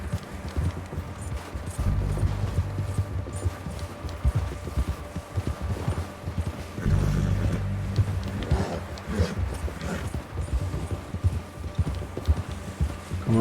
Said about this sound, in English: Come on, Mr. Horse. You can do this.